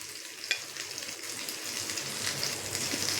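Cumin and spices fry in hot oil in a pan, a steady dense crackling sizzle that grows slightly louder, with a sharp tap early on and no talking.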